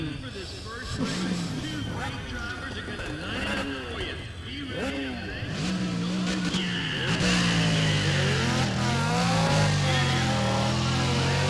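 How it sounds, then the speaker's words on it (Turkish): A Saleen S7 Twin Turbo races in the Need for Speed ProStreet video game, its engine droning and rising through repeated revving swoops before settling into a loud, sustained high-speed roar, with a player talking over it. "S7 Twin Turbo yani. Sağlam araç."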